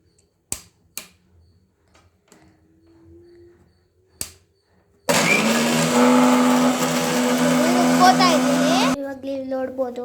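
A mixer grinder grinds chillies, tamarind and tomato for rasam: after a few scattered clicks and knocks, a loud steady whir runs for about four seconds, then stops into a brief rattling wind-down.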